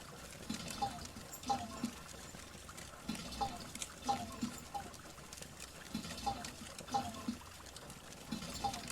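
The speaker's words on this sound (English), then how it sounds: "And you just pour it in the mold." Molten metal poured into a mold in Hydroneer, a soft liquid trickle with repeated small dripping pulses that rise and fall in an uneven rhythm at moderate, fairly close level, with no voices.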